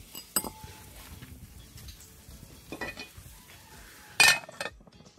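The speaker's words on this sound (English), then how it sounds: "so I'm gonna cover the pot now" A pot of Irish potatoes is covered outdoors, with soft scraping and stirring, a few light clinks, then a sharp metallic clank as the lid goes on near the end, all close by over a quiet background.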